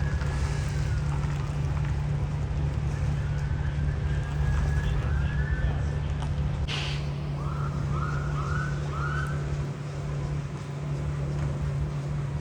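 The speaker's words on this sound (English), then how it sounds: "I could hear a siren in the background" A siren wails faintly in the distance over a constant low engine rumble at a Tesla car fire, its rising and falling tones repeating several times.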